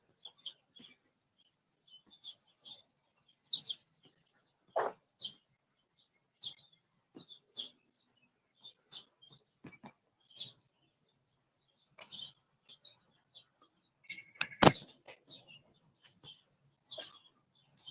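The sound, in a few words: birds singing and chirping outdoors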